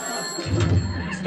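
An old telephone bell ringing as a sound effect in a 1959 radio comedy, a short burst of ringing heard alone without voices.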